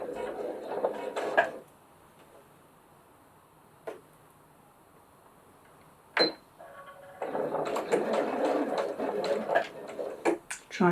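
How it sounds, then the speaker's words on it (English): A sewing machine stitches a fabric glasses case at a quarter-inch seam, running in two loud bursts at the start and end around a quiet pause with a few clicks. "So I'm just going to stitch at 1/4 inch."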